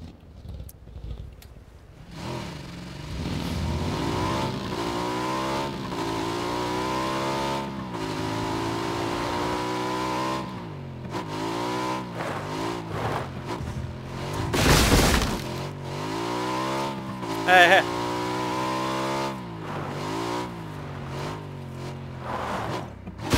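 Motorcycle engine in PUBG, revving and rising in pitch repeatedly with gear-shift sweeps, loud and close throughout, with a sharp crash-like burst midway.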